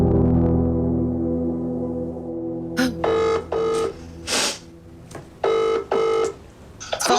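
A phone call connects: a sustained tone fades into a run of short electronic dialing and ringing bursts in an uneven rhythm, clear and close, with no talking.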